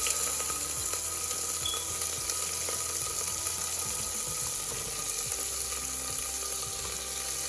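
Vegetables hit a hot pan of cooking dal with spices and settle into a steady, close sizzle and crackle, with a few stirring scrapes, continuous and fairly loud throughout.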